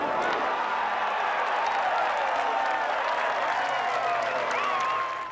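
A golf gallery at the 1995 Masters final round applauds an iron shot, a dense, sustained wash of clapping and crowd noise, with faint cheering and talk underneath, that fades at the end.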